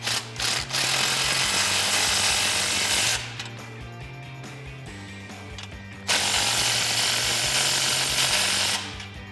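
A 15 mm ratchet snugs an exhaust clamp onto the MBRP cat-back muffler of a 2021-2022 Ford Bronco, with rapid metallic clicking in two long close runs separated by a short pause and no talking.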